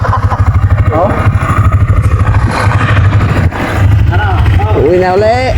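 A motorcycle engine runs at a steady, close idle beneath ongoing conversation between several people, its low throb continuing under their voices throughout.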